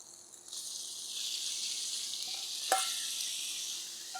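Swordfish pieces drop into hot oil in a pan and set off a steady, close sizzle that holds throughout, with a brief clatter partway through.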